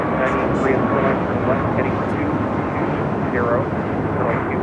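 A jet airliner roars down runway 25 right at LAX on takeoff, a loud sustained engine rumble and whine that holds steady throughout with no voices over it.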